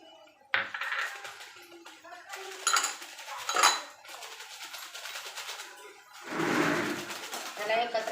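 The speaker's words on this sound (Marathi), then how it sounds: "त्याला एकत्र हलवून घेऊया." Cauliflower being stirred with garam masala and coriander powder in a metal pot, a wedding-style dish: spoon scrapes and clinks against the pot in short bursts, close and moderately loud, with a few pauses between strokes.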